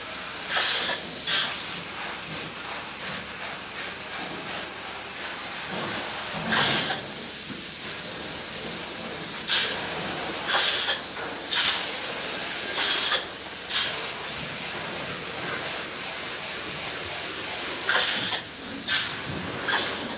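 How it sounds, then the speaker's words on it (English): Spray foam insulation hissing from a spray gun in repeated bursts of a few seconds each, loud and close, with a constant background roar between the bursts. "So he's spray foaming."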